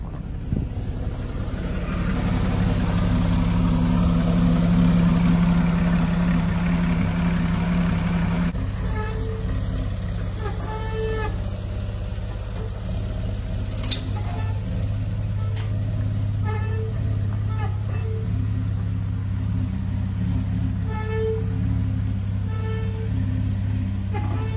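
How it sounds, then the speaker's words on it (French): A car's engine idles with its exhaust valves open, a deep steady rumble that shifts in tone partway through, with a few light clicks and taps nearby. "je vais ouvrir les clapets d'échappement."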